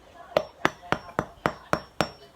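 A durian being tapped to judge ripeness, seven evenly spaced knocks, close and crisp, hollow-sounding hits with no talk over them.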